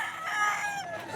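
A Golden Boy gamefowl rooster crows once, a clear close cock-a-doodle-doo lasting about a second.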